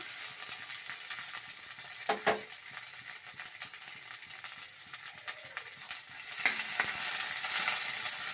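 Onions frying in a pan while vermicelli upma is made, a soft steady sizzle with a few sharp spatula scrapes and clinks, close by and growing louder near the end, with no speech.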